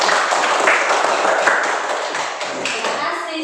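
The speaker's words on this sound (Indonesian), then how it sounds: "Oke, tepuk tangan dulu." A classroom full of students claps together in sustained applause, dense and close, with some children's voices mixed in.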